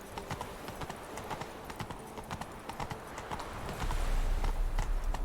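Horse hooves galloping in the Witcher 3 video game, a fast steady clip-clop rhythm close up, joined by a low rumbling swell near the end.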